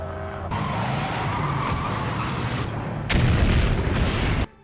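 A loud vehicle engine roars and skids, then a heavier crashing boom bursts in as it crashes into a building, followed by a sudden cutoff into quiet.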